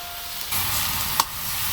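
Red amaranth greens hit a hot pan of garlic, onion and chili, bursting into a loud, close sizzle that holds steady with a brief clatter partway through; no talking.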